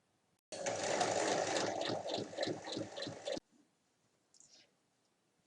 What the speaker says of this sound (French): On reprend les parmentures, on les place endroit contre endroit et on va coudre dans les petites largeurs.